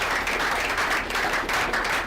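An audience at a coding bootcamp in Africa claps for a participant, with steady, moderately loud applause from a room full of people and no speech.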